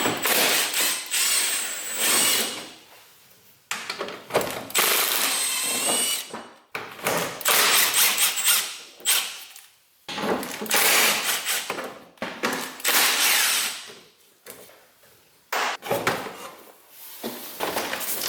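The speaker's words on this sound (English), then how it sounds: "let's take off the under tray with the 10mm socket" A ratcheting socket wrench with a 10mm socket works loose the under tray bolts on a BMW E46 3 Series. The bursts of clicking ratchet and metallic clatter come in quick, close spurts separated by short pauses.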